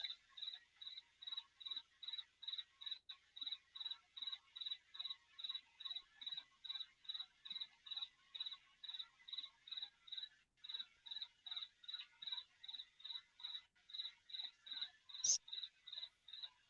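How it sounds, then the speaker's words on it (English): Crickets chirp steadily in the background, a faint, regular pulsing trill repeating about twice per second throughout, with no voices. "It's funny with the crickets in the background."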